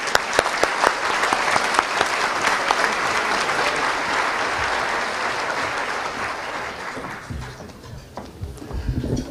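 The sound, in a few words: audience applause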